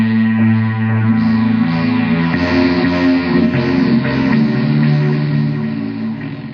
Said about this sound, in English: when you add the Eventide, here's what you get